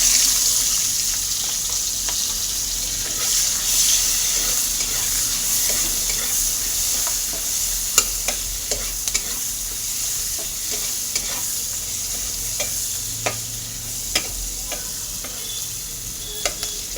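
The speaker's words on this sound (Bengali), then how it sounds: "তেল গরম হয়ে গেছে, পেঁয়াজ দিয়ে দেব।" Chopped onions fry in hot oil in a pan with a continuous close sizzle and hiss, punctuated by scattered pops and light stirring clicks, with no voices.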